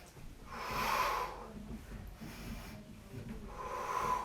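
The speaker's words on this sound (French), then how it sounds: "J'expire en bas. J'inspire là-haut." Breath during an abdominal workout: two strong, drawn-out exhales with a softer inhale between, close and breathy, with no words.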